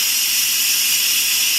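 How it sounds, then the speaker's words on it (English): Steam escapes from the release nozzle of an Instant Pot during a quick release, a loud, steady, continuous hiss that cuts off abruptly at the end. "you're just going to turn your nozzle and have all that steam escape from the top"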